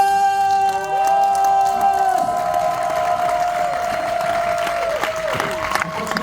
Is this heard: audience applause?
yes